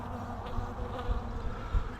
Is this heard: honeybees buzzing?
yes